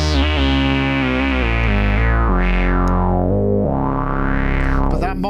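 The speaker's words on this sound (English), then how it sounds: "There is a bit of internal distortion by the sound of things." Behringer Proton synthesizer oscillators drone loud and steady with slight internal distortion, while the filter sweeps the tone up and down in slow rising and falling arcs.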